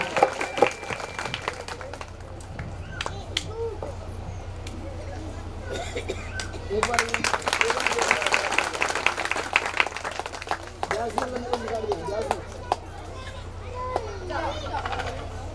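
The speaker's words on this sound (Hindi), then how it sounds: "जोरदार तालियों के साथ स्वागत करें आप लोग।" Audience applause at a Shrimad Bhagwat Katha religious gathering on Janmashtami: scattered clapping swells into a dense burst midway, then thins out. A voice speaks over it.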